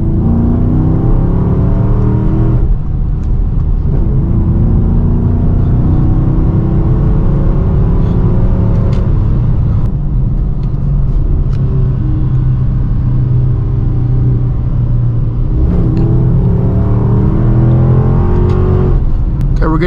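Dodge Charger R/T fitted with a Hellcat airbox cruising on the road, its steady engine drone and intake rumble continuous throughout, swelling slightly with throttle changes near the start and around the middle.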